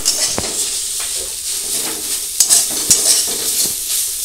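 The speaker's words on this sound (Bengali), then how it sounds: "শাক ভাজা পুরো রেডি হয়ে গেছে," Shushni shak, leafy greens, frying in a pan, with a steady sizzle and occasional stirring scrapes and spoon knocks, close and moderately loud with no talking.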